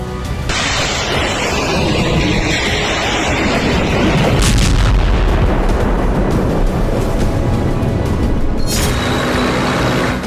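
HIMARS rocket launches during the Russia–Ukraine war, a loud sustained roaring rush of firing with deep booming low end, swelling around the middle and a second blast near the end, with no talk.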